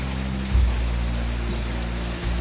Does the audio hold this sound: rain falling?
yes